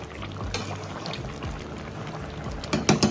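Water poured into a simmering jackfruit and prawn curry (echor chingri) in a pan: a soft, steady wash of liquid sizzle and bubbling, with a louder splash and spatter near the end.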